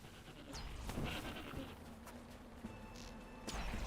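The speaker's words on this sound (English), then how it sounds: "these are the Drugavar. They're like evil goats" Drugavar, evil goat-like creatures in a skirmish game, bleat faintly against a low rumbling background, with a few soft knocks and thuds mixed in.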